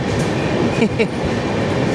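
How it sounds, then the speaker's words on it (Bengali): The 12863 Howrah–Bangalore SF Express rumbles loudly as it picks up speed leaving a station in thick fog, with a dense, steady roar of wheels on rails and faint clacks, heard from on board. "স্টেশন ছাড়তে না ছাড়তেই পিক আপ দেখো ট্রেনের"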